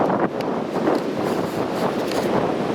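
Strong wind on an Appalachian Trail mountainside buffets the microphone in a steady, rushing roar with gusty swells, with no voices heard.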